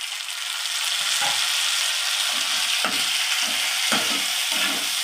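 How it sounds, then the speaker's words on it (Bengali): Dried red chilies, chopped green chili and chopped tomato fry in a pan with a continuous close sizzle, broken by several soft stirring scrapes of a spatula against the pan. "এটা একটু ভেজে নিই।"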